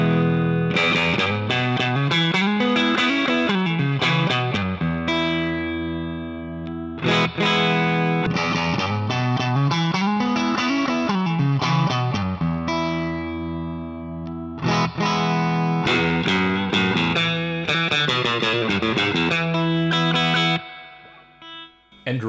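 An electric guitar plays through a BluGuitar Blubox into a Super Reverb 4x10 cabinet, with loud, distorted sustained chords and bending, wavering notes ringing continuously for over twenty seconds before a brief drop at the end.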